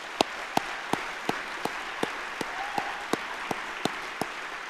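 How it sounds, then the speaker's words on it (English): Applause fills the hall at the 2025 State of the City address in Chandler. Sharp claps land in a regular beat over a soft crowd background. "let's give everybody a round of applause"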